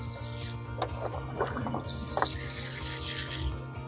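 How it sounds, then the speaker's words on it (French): Water pours into a garden planter box filled with soil, a steady running splash under a low background hum, close and fairly quiet, with no talking. "on met de l'eau, on n'hésite pas à en mettre"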